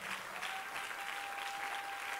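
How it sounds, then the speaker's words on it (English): Church congregation clapping for Jesus during a fasting and prayer service, steady dense applause from many hands filling the room, with a faint sustained tone underneath. "Oh, clap for Jesus, somebody."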